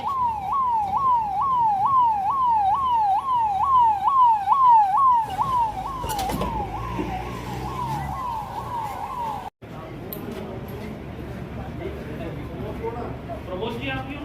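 An ambulance siren wails in a steady rapid up-and-down pattern for about five seconds, then continues more faintly amid traffic and street noise at a busy scene in Ajmer.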